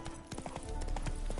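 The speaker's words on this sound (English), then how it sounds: "Spooking my horse." Horse hooves clip-clop in a steady walking rhythm in The Witcher 3: Hearts of Stone, with a brisk run of close, crisp hoof strikes over a low game ambience.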